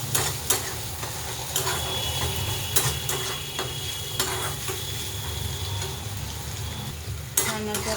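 Tomatoes stirred into a frying masala of roasted onion, coconut and garlic for a cluster bean (gavar) curry, with a steady sizzle in hot oil and intermittent scraping, clacking spoon strokes against the pan, close and continuous.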